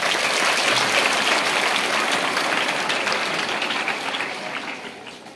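Audience applause at a school event with students and teachers in Tamil Nadu, a dense, steady wash of many hands clapping that holds loud for several seconds and then gradually thins and fades toward the end.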